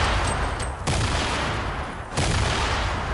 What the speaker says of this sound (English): Oh shit, that's a nade.